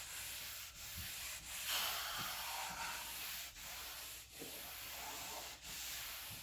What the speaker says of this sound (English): Where's that piece of sandpaper I was using, Justin?